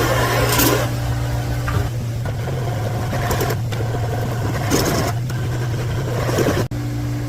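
Valve seat cutting machine driving its arbor while fitting exhaust valve seats in a small-block Chevy head: a steady, loud motor hum with a constant low drone and a few brief cutting surges, stopping abruptly near the end.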